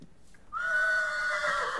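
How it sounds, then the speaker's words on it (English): A sudden, loud horse neigh in the game Hexxit bursts in after a brief quiet moment, a high drawn-out whinny that wavers and holds to the end. "the horse just scared the crap out of me with its neigh"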